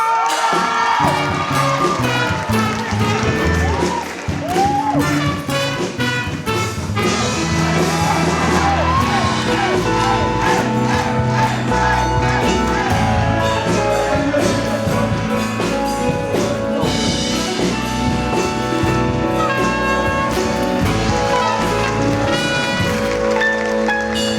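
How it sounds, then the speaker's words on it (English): Loud, continuous crowd cheering with whoops and yells fills the hall at the InSIGHT 2024 event as the audience salutes its organizing committees, a dense roar that never lets up. "Please give another round of applause for the committees of InSIGHT 2024"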